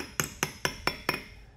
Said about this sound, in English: So you want to tap the perimeter of the housing